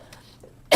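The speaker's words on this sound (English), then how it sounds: "the mites are making me cough" A single sharp, loud cough bursts out at the very end after near silence, a person coughing from dust mites.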